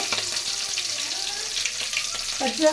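Cumin seeds and green chilies hit hot oil in a pan, making a steady close-up sizzle that crackles throughout, with a few small clinks near the end and no talk.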